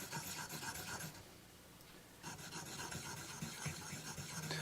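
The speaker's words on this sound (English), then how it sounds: "I'm going to old school sharpen it on my whetstone with some oil, and I'm putting the hollow grind side down." A chisel is rubbed back and forth on an oiled whetstone, hollow-ground side down, during work on a 1918 Gibson L3 guitar; a steady close rasping scrape runs throughout, briefly easing off near the middle before resuming.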